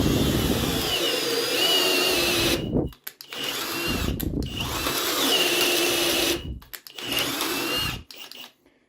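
A Yato YT-82797 cordless drill whirs loudly in long continuous bursts, boring into material with a 32 mm bit, with a few brief stops and restarts between runs.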